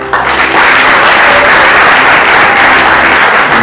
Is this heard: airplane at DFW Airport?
no